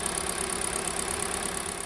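Rapid, even mechanical ticking of direct injection fuel injectors over a steady idling engine hum from a 2017 Hyundai Elantra 2.0, close and moderately loud.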